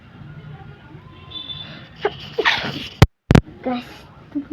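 A single sharp sneeze bursts out loud and close, followed by a brief silence and a second burst, with faint talk and background game sounds around it.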